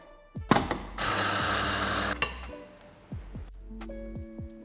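An Anfim Luna 65mm espresso grinder with time-based dosing grinds an 18-gram dose in one loud, close whirring burst of about a second, with clicks and knocks before and after.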